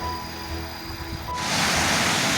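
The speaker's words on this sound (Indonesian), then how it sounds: "Kita dengar suara air terjun" Curug Bakrom waterfall near Tasikmalaya, heard from a forest hiking trail as a steady broadband rush of falling water that swells abruptly louder partway through and then holds.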